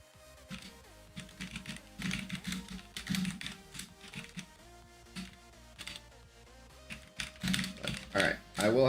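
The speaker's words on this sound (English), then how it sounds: "I just come to listen to the keyboard." Someone types on a computer keyboard in rapid, uneven bursts of close clicky keystrokes, with a voice talking over the typing now and then.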